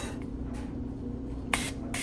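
Cooking spray hisses into a large, old, marked baking dish in several short bursts, close and clear, with the longest burst near the end and no speech.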